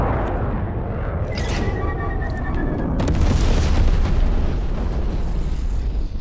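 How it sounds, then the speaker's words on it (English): Napalm strike in Black Ops Cold War Free For All: a heavy rolling boom and roaring fire rumble swell over several seconds, with a high whine fading beforehand. "Enemy napalm strike."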